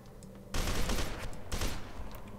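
Bursts of automatic gunfire in the shooter game F.E.A.R. 2, two loud sustained volleys close together, standing alone without talk.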